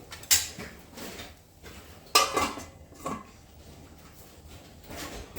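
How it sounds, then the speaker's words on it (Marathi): A lid is set over a pan of matar paneer masala on the stove, with a few sharp metallic clanks and clatters as it is handled and settled in place. No voices are heard. "आता आपण ह्याला थोडंसं झाकून ठेवूयात"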